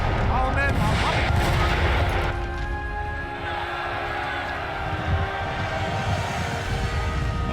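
Cannon and artillery fire in Napoleon: Total War, booming and crackling over a continuous loud battle roar, with dense blasts in the first two seconds and then a sustained rumbling din.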